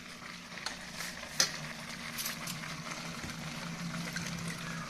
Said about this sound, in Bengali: চালটা দিয়ে আরও একবার সমস্তটাকে ভালো করে মিক্স করতে হবে